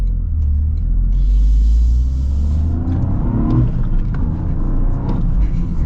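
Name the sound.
2024 Toyota GR Corolla manual car driving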